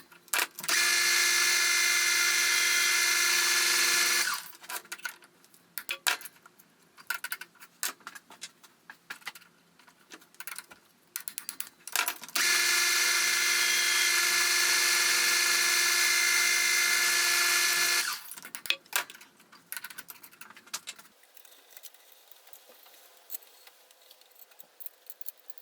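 A metal lathe turning down the heads of M6 cap head screws: two long, loud, steady high-pitched cutting runs of a few seconds each, separated by clattery handling and clicks, with no voices.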